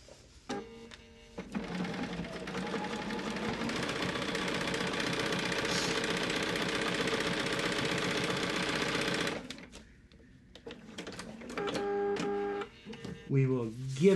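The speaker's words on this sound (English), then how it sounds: "pinch and bring to the sewing machine" A sewing machine stitches a quilt block in one long, steady whirring run of about eight seconds, close and even, then stops; brief talking follows afterward.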